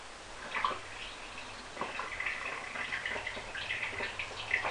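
Developer liquid poured into a 35mm black-and-white film developing tank, a close, fairly quiet gurgling and splashing pour with small drips, no talking.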